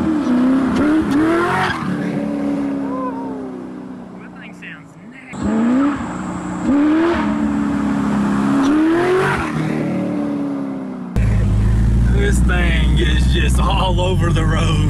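A Factory Five GTM supercar with a race clutch pulls hard through second gear on a road, its engine note rising in loud revving sweeps with a brief lift between pulls, then a rougher roar near the end.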